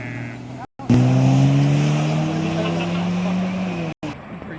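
A 1990s Chevrolet Camaro IROC engine runs at a car show, a loud droning tone that rises slowly in pitch as it revs, with brief cuts near the start and end and background chatter.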